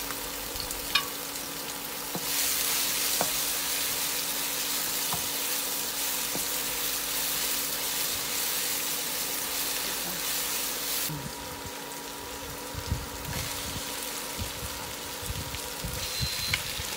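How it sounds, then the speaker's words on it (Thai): Chili and pounded garlic sizzle in hot olive oil in a pan, a broad steady frying hiss that swells loudly around two seconds in and carries on with scattered pops and scraping stirs, easing slightly toward the end. "ตั้งกระทะใส่น้ำมันนะคะพอร้อนเราก็ใส่พริกกับกระเทียมที่เราโขกเอาไว้นะคะ"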